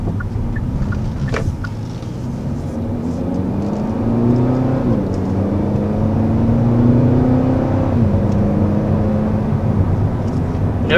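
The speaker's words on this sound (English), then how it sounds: "as the dual clutch transmission shifts. You do get like just a little bit of an exhaust fart." A 2020 Kia Forte GT with a dual-clutch transmission pulls through its gears from inside the cabin, the engine drone rising and dropping with each shift, and a small exhaust pop sounds at the changes.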